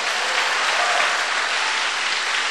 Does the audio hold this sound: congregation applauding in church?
yes